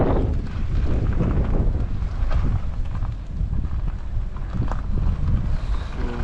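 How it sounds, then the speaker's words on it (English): Strong wind in Saudi Arabia buffets the microphone in loud, rumbling gusts that rise and fall throughout, with a brief lull partway. "it's kind of windy"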